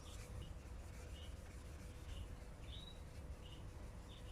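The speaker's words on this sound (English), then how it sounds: "we just polish it in with the sandpaper" A car headlight is wet sanded by hand with 1200 grit sandpaper: a faint, steady rubbing scrub with soft rhythmic strokes and light squeaks.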